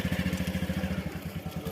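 A motorcycle engine idles as the bike is turned around at night, giving a steady, close, rhythmic putter with no speech.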